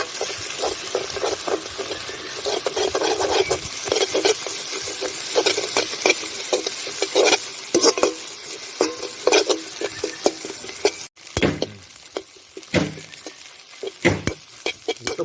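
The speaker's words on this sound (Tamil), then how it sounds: "நல்லா 4 முட்டையும் கிளறி விடுங்க." Four beaten eggs are stirred and fried in a pan for egg noodles, with rapid scraping and clinking strokes of a spatula rising over a constant sizzle and going on steadily throughout.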